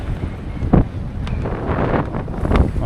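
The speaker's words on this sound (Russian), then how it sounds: "Ветер сильный, течение здесь." Strong wind roars across the microphone aboard a sailboat off the Bahamas, a loud continuous rushing with gusty swells and water churning beneath, no voices.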